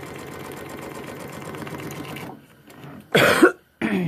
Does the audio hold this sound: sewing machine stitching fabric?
yes